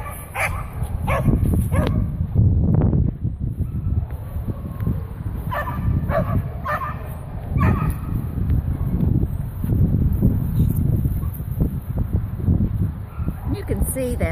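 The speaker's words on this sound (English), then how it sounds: "See that Novak's just a puppy." A young dog barks and yips in short bursts, close by, with people talking over it and some wind noise.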